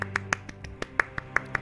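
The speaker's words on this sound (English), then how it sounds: "No just claps her hands and says," A woman claps her hands in a dark fantasy setting, a series of about nine sharp, close, evenly spaced claps with no talking.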